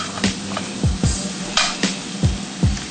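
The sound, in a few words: garlic sizzling and being stirred in a pan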